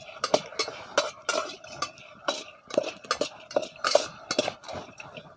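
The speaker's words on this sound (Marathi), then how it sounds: "तोपर्यंत तुम्ही मला एक टोमॅटो चिरून द्या ना" A knife chops a tomato on a board while a soybean vegetable dish is cooked near a farm field, giving a run of sharp, uneven close-up taps and knocks.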